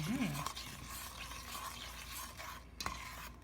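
Raisins and almonds being stirred into German pound cake batter, producing a soft, steady scraping swish in a bowl with a few light clinks, fairly quiet, with a brief voice at the start.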